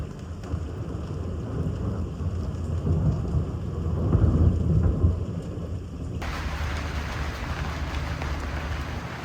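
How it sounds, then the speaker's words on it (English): Heavy rain pours steadily on a boat in Elliott Bay while deep thunder rumbles and swells to a loud peak midway, then the downpour continues on its own. "the booming thunder, flashes of lightning, and heavy rain took us by surprise"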